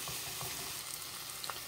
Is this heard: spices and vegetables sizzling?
yes